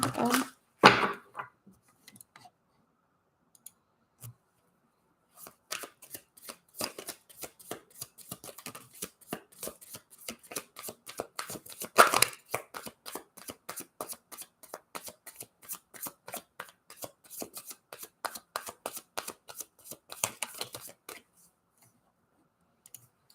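Tarot cards are shuffled during a live reading, with a few short riffles near the start and then a long, steady run of quick crisp flicks lasting about fifteen seconds, close and fairly quiet.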